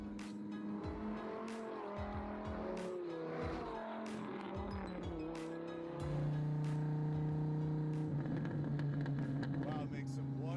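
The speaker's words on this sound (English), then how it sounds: "I gotta admit, I haven't heard a Viper that sounds like this" A Dodge Viper with stock 3.08 gearing revs hard, its engine note rising and falling through repeated pulls before settling into a loud sustained drone, with people talking over it.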